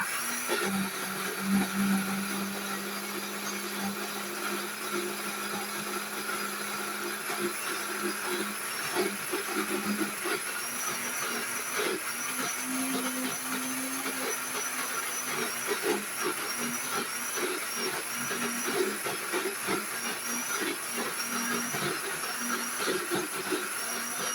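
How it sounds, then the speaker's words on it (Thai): An electric blender whirs steadily as it purées Thai chili paste (nam prik) ingredients, including dried shrimp, with a little water: a continuous loud motor drone with a whining hum and slight churning, unbroken throughout. "ทีนี้เราปั่นเราก็โอเคจ้ะ"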